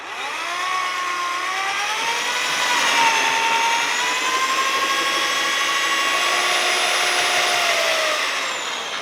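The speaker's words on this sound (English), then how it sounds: "we're going to make sure we give it a nice, long 2-minute mix" A drill-driven paddle steadily mixes Ultra ProLevel Fibre levelling compound in a bucket, giving a loud, sustained motor whine whose pitch drifts slightly over a long, even stir, with no talking.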